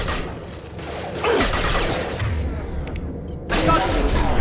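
Gunfire in Mass Effect 2, a dense rattle of weapon shots and impacts in a sci-fi combat scene, loud and steady with a sharper burst near the end, voices faintly mixed in.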